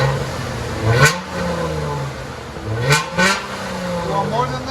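A Dodge Challenger V6 with an aftermarket exhaust revs twice in short bursts, each rising throttle blip dropping back to a rumbling idle, close by with people talking around it.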